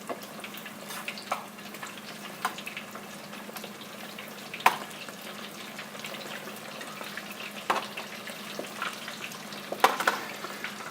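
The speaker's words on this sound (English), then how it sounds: "we'll keep repeating the process here until we have all of our wings fried and in the oven" Chicken wings frying in oil, a quiet steady sizzle with scattered pops and a few sharp clacks of utensils, no talking.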